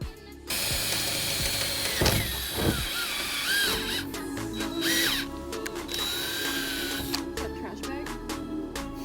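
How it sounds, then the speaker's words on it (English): A power drill bores pilot holes in the metal roof of a Dodge Promaster van, whirring and grinding close by in steady bursts, with a high mechanical whine over dense, noisy rumble. "just drill a couple pilot holes so we can get the jigsaw blade started in the roof"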